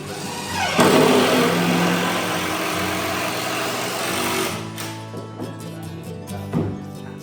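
A machine stitches down a homemade chicken processing cone, its motor whirring loudly and steadily for several seconds before stopping, followed by quieter handling noises.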